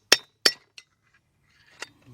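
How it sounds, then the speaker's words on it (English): A carpenter's hammer knocking on front wheel bearing races of a 1995 Ford Econoline E-150, two sharp metallic clinks close together, then a faint tap and one more strike after a pause. "take my carpenter's hammer, and it don't take much to knock these out"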